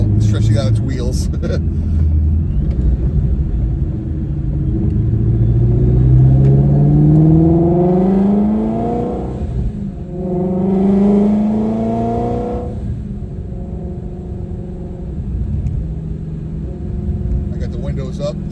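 Procharged Ford GT350 accelerating on a drive, the engine note rising through two strong revving pulls with falling and climbing pitch, loud and close, heard from inside the car alongside a voice.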